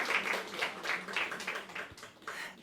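A church congregation claps in welcome, a moderate burst of uneven hand claps in several short waves, fairly close and without talk.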